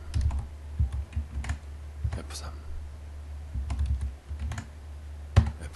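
Keyboard shortcuts are tapped out on a computer keyboard in quick, uneven clusters of soft key clicks. The clicks come in bursts with short pauses between them, close and fairly quiet, with low background hum and faint murmuring underneath.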